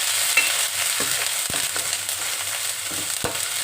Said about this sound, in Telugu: పచ్చివాసన పోయేంత వరకు అల్లం పేస్ట్ వేయించుకోవాలండి